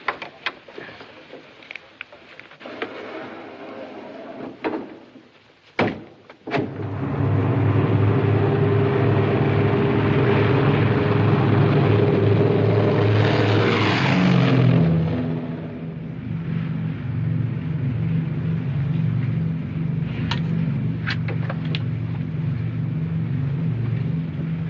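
Inside the cabin of a 1952 airliner in flight, a steady low engine drone fills the space, dipping briefly and then settling back into a loud, continuous hum with no talk.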